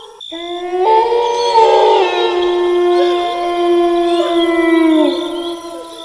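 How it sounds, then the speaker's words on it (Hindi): Several dogs howl at night in a quiet village, long sustained wailing tones rising and falling together, loud and close, continuing throughout with no other sounds. "कुत्तों के रोने की आवाज ने माहौल को और डरावना बना दिया था"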